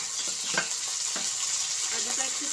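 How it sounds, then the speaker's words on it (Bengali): Onion, chili and cumin paste sizzles as it fries in a pan, with a constant hiss and a few soft scraping stirs close by. "আমি ভালো করে নেড়ে চেড়ে নিচ্ছি আমি পেঁয়াজ বাটা লঙ্কা বাটা আর হচ্ছে জিরে বাটা"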